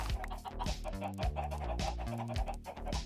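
Chicken clucking in the Minecraft video game, soft repeated clucks over a dense, busy backdrop of game music and sound.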